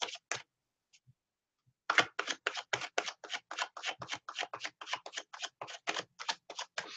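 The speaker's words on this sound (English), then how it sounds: "We're shuffling now. We're shuffling." Tarot cards riffle and snap in a rapid run of crisp clicks after a couple of isolated taps and a pause, close and fairly quiet.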